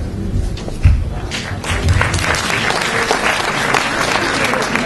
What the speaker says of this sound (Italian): Applauso, prego.